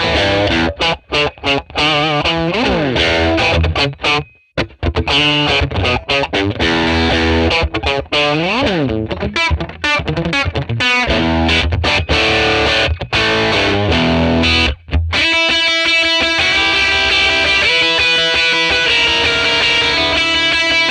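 Electric Telecaster guitar through a bright 1957 Tweed Bassman amp model in drop tuning, playing loud driven riffs with chugging palm-muted chords, brief stops and ringing sustained chords toward the end, with no talk.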